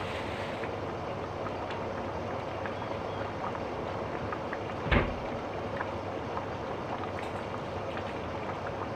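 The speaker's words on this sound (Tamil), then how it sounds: "நல்லா கொதிக்குது." A pot of fish curry bubbles steadily at a rolling boil, with a continuous wet gurgle and one brief clatter partway through.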